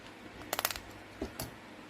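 A 2017 Korean 50-won coin handled while fitting it into a capsule holder: a cluster of small bright metallic clinks, then two softer taps, close and quiet.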